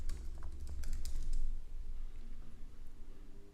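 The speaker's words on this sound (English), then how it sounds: "you can just type in logo design" Rapid typing on a computer keyboard, a close flurry of quick key clicks that is busiest at the start and thins into lighter taps, with no speech.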